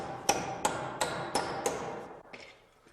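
A hammer taps a stair board into place against a cut carriage and hanger board: about six sharp, evenly spaced strikes close by, with a fainter pair trailing at the end.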